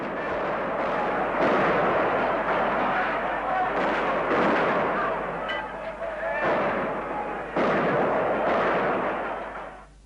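Gunfire during the Hungarian uprising in Budapest, a dense, noisy barrage of blasts and crackling shots in repeated surges, loud and continuous, with a few bursts standing out sharply.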